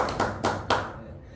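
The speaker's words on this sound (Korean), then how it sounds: "박수 보내주실 거죠?" A few quick, faint hand claps from an audience land in three short bursts before fading.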